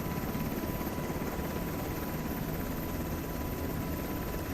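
A UH-60M Black Hawk helicopter in flight on final approach, its steady broadband rotor and engine roar constant and loud throughout with no speech.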